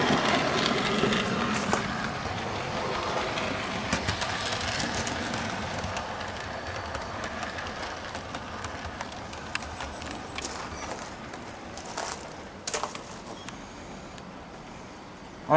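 A Bachmann Southern Class E4 model locomotive runs along the track, giving a steady low rumble with light clicking and rattling, plus a few sharper clicks toward the end, with no talk.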